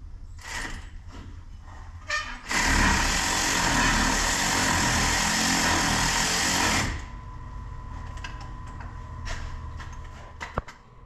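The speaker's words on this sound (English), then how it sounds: "I've had this AC Delco electric ratchet for well over 10 years." An AC Delco cordless electric ratchet, more than ten years old, whirs steadily for about four seconds at close range while working on a 2015 Dodge Ram 1500 wheel speed sensor job, bracketed by shop clatter and brief handling noises.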